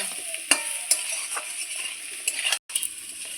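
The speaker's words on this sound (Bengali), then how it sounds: "লবণ দিয়ে আবারও খুব সুন্দর লাল লাল করে ভেজে নেব।" Elephant foot yam and potato pieces frying in oil with salt and turmeric, a steady hiss of sizzling broken by sharp clinks and scrapes of a spoon stirring in the pan, with one brief dropout.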